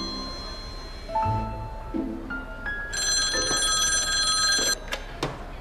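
A telephone rings with bright electronic tones that repeat for several seconds, loud and close, in an otherwise quiet room with no talking.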